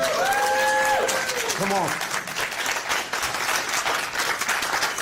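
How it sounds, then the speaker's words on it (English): A conference audience applauds in a broad wash of clapping, with a voice calling out briefly over it and the sound tapering after the first seconds. "Let's get a round of applause"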